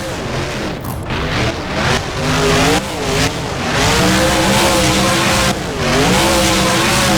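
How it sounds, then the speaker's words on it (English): A monster truck in BeamNG tears around a freestyle course with a broken, destroyed rear suspension, its engine revving loudly and continuously in rising and falling waves, with tire noise and scraping thumps as it swings around and bounces off containers. "Bringing the truck around, they go over the ramp they started on, swinging the truck around, bouncing off the containers there"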